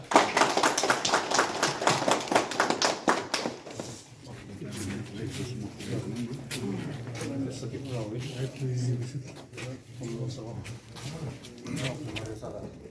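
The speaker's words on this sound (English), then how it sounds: "And we all clap." A burst of applause from a group at a school building inauguration, dense clapping for a few seconds, then fading into indistinct murmuring voices.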